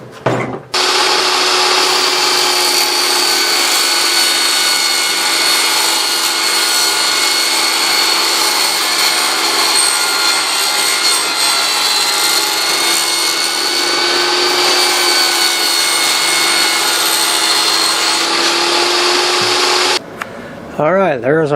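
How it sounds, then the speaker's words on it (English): A loud power tool runs steadily for about twenty seconds, cutting a laminated wood piece for a round window frame down to size in a workshop, with a sustained whine that stops abruptly at the end. "Now we just got to cut it down the right size."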